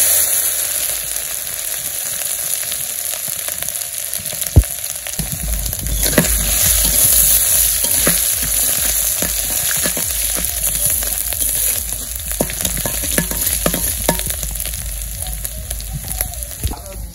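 Ginger goes into a pot of hot oil already holding cardamom, cinnamon and dried chilies, giving a steady loud sizzle with crackling bursts and stirring scrapes throughout.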